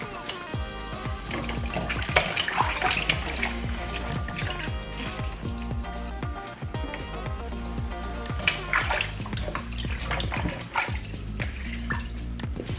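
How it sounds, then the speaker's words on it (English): Tap water runs steadily into a sink while oxtail meat is washed, with continuous splashing and dripping close by and occasional louder splatters from handling the meat. "It's so important to wash your meat."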